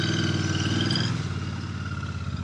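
A Royal Enfield Bear 650 motorcycle pulls away in first gear, its engine a steady, loud drone that holds and then eases slightly as the bike gets moving, with no voices over it.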